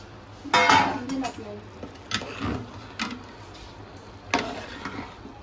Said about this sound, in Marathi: आता झाकण देऊ हा परत.